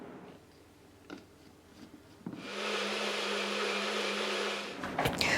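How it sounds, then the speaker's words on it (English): An electric blender whirs steadily for a few seconds as it mixes a water and flour batter, starting after faint clicks and handling and stopping abruptly, with no talking. "we're going to blend it very well"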